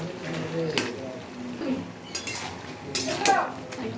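Stirring a pot of bottle gourd curry with chopped tomato and slit green chilies, utensil scraping and clinking against the pot in several short bursts over a soft kitchen background.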